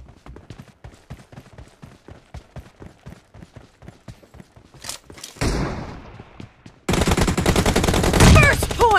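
Rapid automatic gunfire in a BGMI team deathmatch round, a long string of sharp evenly spaced shots close up, then a sudden loud roaring burst of noise near the end.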